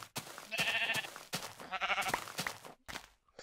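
Sheep bleat several times in the video game Minecraft, each call wavering and nasal, clear and moderately close, separated by short pauses with soft game sounds between.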